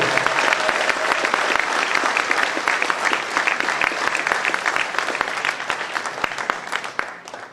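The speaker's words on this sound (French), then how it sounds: "Merci d'applaudir Mathias" An audience at a table tennis match between Jura Morez and Villeneuve applauds a player, a full, loud, sustained burst of clapping from many hands that carries on evenly before thinning slightly at the end.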